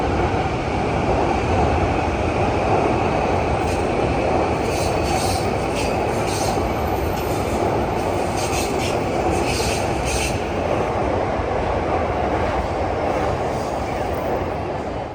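Train rolling through Ueno Station in Tokyo, a steady close rumble of wheels on rail with faint squeals and light clatter throughout, continuous and loud with no talking.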